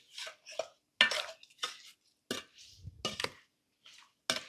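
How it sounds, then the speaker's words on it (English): Melted butter being mixed into sausage with brown sugar, heard as a quiet run of wet, squelchy stirring scrapes and soft utensil knocks in an irregular rhythm, close and alone. "Now I just need to get this mixed up."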